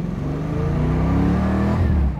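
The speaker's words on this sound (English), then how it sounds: "That was about half throttle, and this set you right back in the seat, run up to 50 miles an hour just like that." A 1968 Ford Mustang with a 351 V8 accelerates at half throttle, its engine note swelling loud and close in a steady, rising pull.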